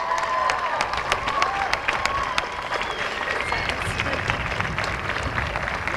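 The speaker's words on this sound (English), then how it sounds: "I think they deserve a round of applause from the graduates" A crowd at a 1991 university commencement ceremony applauds the graduates' parents with steady, dense clapping and some cheering, loud and sustained throughout.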